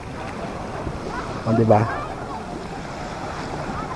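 Sea waves wash steadily at a beach resort with broadband surf and some wind noise, while a voice speaks briefly near the middle.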